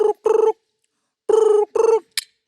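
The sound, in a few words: voice imitating a telephone ringing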